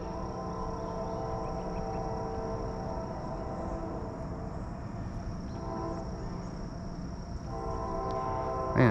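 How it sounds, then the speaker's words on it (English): A train rumbles steadily past nearby with a low, continuous roar, its horn tones sustained throughout and swelling slightly near the end. "trains are going, planes are flying."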